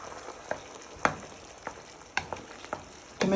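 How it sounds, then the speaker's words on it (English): A spoon stirring tomato sauce with tomato puree in a hot pan, scraping and clacking in irregular strokes over a steady low sizzle, close and alone with no voices. "you want to give that a good stir"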